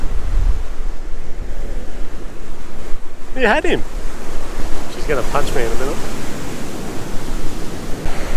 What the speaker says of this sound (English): But there's waves coming.